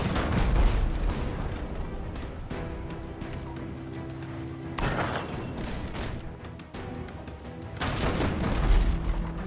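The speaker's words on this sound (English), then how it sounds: "there goes the mortar" Mortar fire in the ship combat game Abandon Ship, heavy booming blasts and rumbling explosions over a dense battle din with sustained musical tones, no talk.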